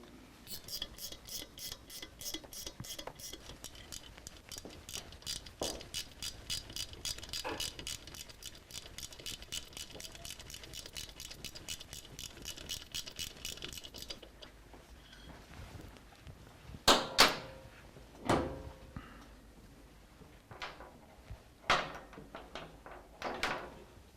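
A torque wrench tightens the rocker support bolts on an S&S motorcycle engine, making a long run of fast, even ratchet clicks. Clicking stops midway, followed by a few scattered louder metallic clunks, close and without speech.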